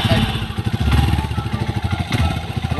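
A motorcycle engine runs with a steady, rumbling low throb close by, holding a fairly even pace throughout, with faint voices mixed in.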